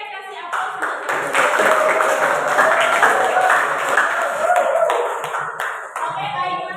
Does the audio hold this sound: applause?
yes